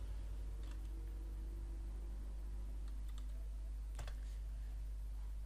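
Keys clatter on a computer keyboard while someone types a search into Google, a few faint scattered taps over a steady low electrical hum, with a sharper burst of keystrokes near the end.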